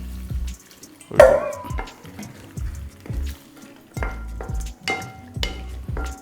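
Tender coconut water splashes into a pot of chicken curry in short bursts with clattering and stirring between pours, close by and moderately loud.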